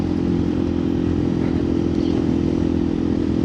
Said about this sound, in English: the muffler with the spark arrestor on is loud